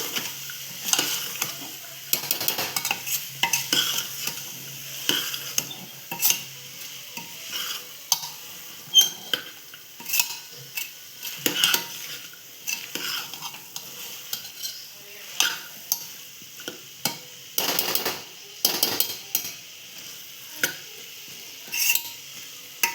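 Repeated scraping and clinking of a spoon sautéing masala in a metal pressure cooker over a low sizzle, in irregular bursts throughout, with no voices.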